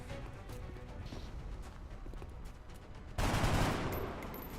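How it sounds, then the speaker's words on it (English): Video-game gunfire in XCOM as soldiers shoot at a sectoid alien, a steady rattle of shots with a louder, denser burst near the end and no talk. "Now we're just going to riddle the sectoid with bullets until he dies."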